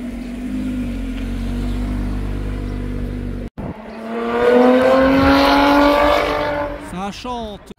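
Porsche 964 in Singer-style restomod form revving up close, the engine note climbing in a rising sweep before cutting off sharply, with voices in the background of an outdoor car meet.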